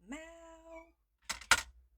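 An indoor cat meows once to be let outside, a clear drawn-out close call near the start, followed after a short pause by a couple of sharp clicks or taps.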